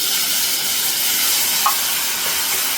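Food frying in hot oil for a spicy thin potato curry, giving a steady broadband sizzle and hiss throughout with one faint clink near the end and no voices.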